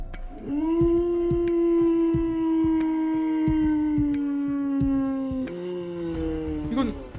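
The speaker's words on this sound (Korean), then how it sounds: "늑대 울음소리잖아." Wolf howl inside a Minecraft murder mystery map: one long, loud, sustained tonal howl that holds steady, dips slightly near the end, then trails off, with faint sharp clicks underneath.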